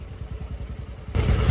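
A Royal Enfield GT650 motorcycle engine fitted with an aftermarket silencer thumps in a quick, steady exhaust pulse close by, then swells into a louder, rougher roar near the end.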